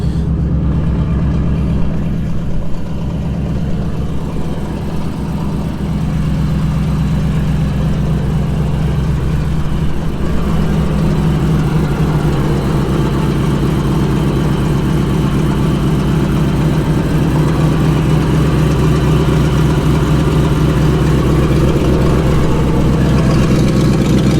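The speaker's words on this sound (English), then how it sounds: "I'll show you the engine now while it's running." The engine of a Mk2 Stalwart military amphibious truck under restoration runs continuously up close, a loud low rumble idling steadily with slight rises in revs throughout.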